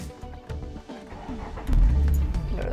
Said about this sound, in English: There, the car turns on.